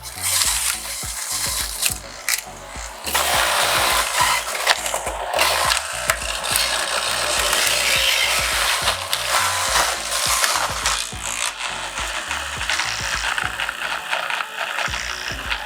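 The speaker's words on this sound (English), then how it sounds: "I'm gonna put the grapes in right on the vine with seeds and all, and the machine has no problem with it" A Robot Coupe food processor grinds grapes still on the vine, seeds and all, with a busy, close, continuous crunching and rattling churn that runs steadily for about fifteen seconds.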